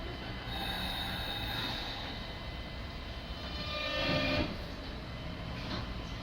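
A British Rail Class 365 Networker electric train with Alstom traction motors runs along the line, a loud continuous rumble with whining motor tones and a brief swell midway.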